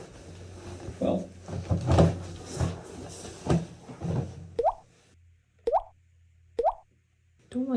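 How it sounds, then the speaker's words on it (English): Water dripping from a pipe in an old Japanese house under renovation, three distinct plopping drops at a steady, slow pace after a stretch of speech and handling noise. "Don't like the constant dripping."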